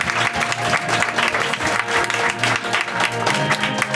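A live comedy audience claps and cheers to welcome a comedian onstage, dense continuous applause that fills the room and carries on unbroken.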